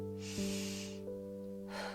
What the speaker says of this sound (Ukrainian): Поклади руку на груди і зроби вдих так, щоб плечі піднялися, а грудна клітка розширилася.